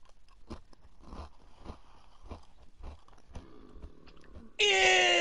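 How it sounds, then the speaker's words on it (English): Crunching of chips, a series of crisp bites and chews at close range during Minecraft play, ending in a sudden loud bright burst of game noise. "They're crunching chips."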